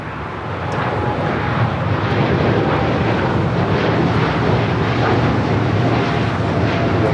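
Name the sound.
Boeing 787-9 Dreamliner at LAX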